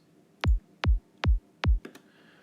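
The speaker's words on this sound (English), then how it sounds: "made a little kick drum for you here" Four deep, punchy synthesized psytrance kick drum hits at a steady pace, each with a quick pitch drop, followed by a faint click.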